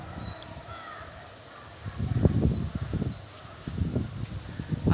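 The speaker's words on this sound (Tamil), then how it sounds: "அந்த காற்றுனுடைய சவுண்டு உங்களுக்கு கேட்கும் பாருங்கள்." Cyclone Mandous winds roar and rustle through coconut trees by a house terrace in uneven surges, rising in strong bursts, with faint distant bird calls above the noise.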